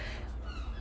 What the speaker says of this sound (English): sorry about the noise, there's seagulls outside